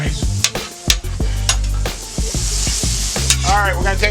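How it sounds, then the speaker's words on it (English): Mushrooms and sirloin tips fry in a hot pan with a loud, continuous sizzle, broken by sharp clanks and scrapes of a utensil stirring and flipping against the metal, close up and with no talk. "we're gonna take these mushrooms, flip them over a little bit"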